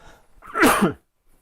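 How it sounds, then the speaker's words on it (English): A single sharp cough bursts out close by, followed by a brief quiet pause. "sorry about the coughs."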